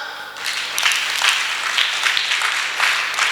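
Church congregation breaking into applause, a quiet start then a full wash of many hands clapping in steady waves across the hall.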